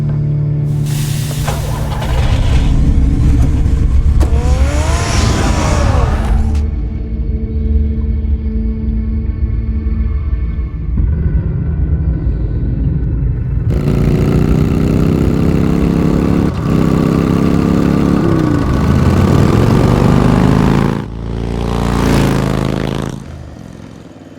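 A car engine roars and revs as the Batmobile pulls away in Batman: The Telltale Series, loud and close, sweeping through rising and falling pitch, with a swelling surge near the end.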